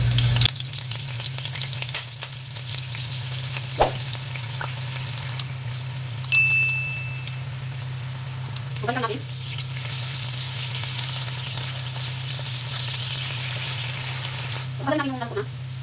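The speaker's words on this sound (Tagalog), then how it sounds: "maglalagay tayo ng mantika. And then, i-fry natin ang ating potato." Potatoes frying in hot oil in a pan, a steady sizzle running throughout with occasional clinks and light stirring, alongside a constant low hum.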